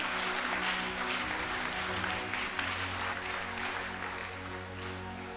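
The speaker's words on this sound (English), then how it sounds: "Clap your hands for Jesus." A church congregation in Ghana claps hands together, producing a dense, sustained wash of applause that stays even and somewhat distant throughout.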